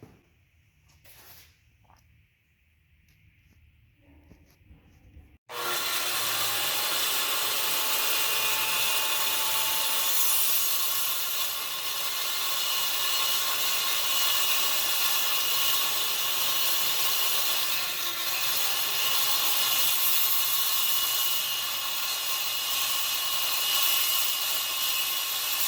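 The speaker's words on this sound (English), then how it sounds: "Nice cut. Love this Milwaukee saw." A Milwaukee power saw cuts a Jeep JLUR diesel engine skid plate, starting abruptly after a few quiet seconds and then whining loudly and steadily up close for about twenty seconds.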